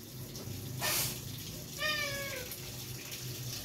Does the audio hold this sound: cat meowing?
yes